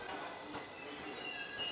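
A Shinkaisoku rapid train pulls into a Japanese station, heard faintly as a low rumble with thin, high wheel squeals near the end.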